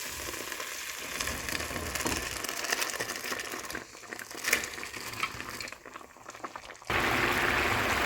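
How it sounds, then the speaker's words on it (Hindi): Mash dal lentils tipped into cooked masala in a pan give a wet, bubbling sizzle with soft crunching, quieter through the middle before a louder, steadier hiss at the end. "अब मैं इसमें दाल ऐड कर दूंगी।"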